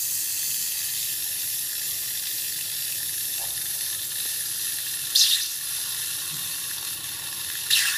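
A hot water faucet on a line fitted with a recirculation pump spits and hisses as air purges from the pipes, a steady bright rushing spray with occasional sharper sputters near the end.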